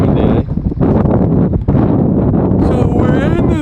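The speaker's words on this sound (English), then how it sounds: "It's a bit windy, eh?" Strong wind buffets the microphone at a race weekend, a loud, constant roaring rush with gusty swells throughout, with people talking underneath.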